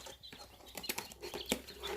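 Several baby chicks peep faintly in a box, with a few sharp high chirps among soft rustling and small movements.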